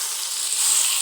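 A pan of mutton curry sizzles loudly as masala is stirred in, a continuous bright frying hiss with no pause over one second.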